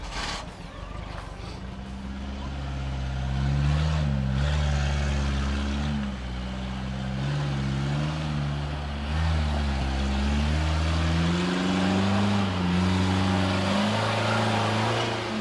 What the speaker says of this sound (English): Fire your engines up.